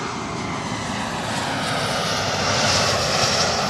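An airliner takes off from an airport runway, its engines a loud, sustained roar that builds gradually and stays steady and continuous throughout, with no voices over it.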